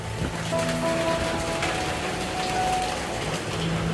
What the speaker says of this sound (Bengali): এর মাঝে হচ্ছে বৃষ্টি চলে আসলো